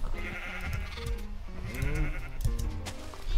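Sheep bleat in a Minecraft farm, several short wavering calls in the middle of the clip over game background sounds.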